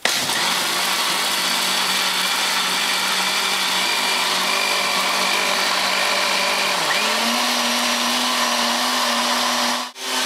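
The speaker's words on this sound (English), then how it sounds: "Now I have a small, very cheap blender here." A small, cheap countertop blender whirs steadily while blending rice in water, a loud, continuous motor drone that shifts slightly in pitch partway through and cuts off abruptly near the end.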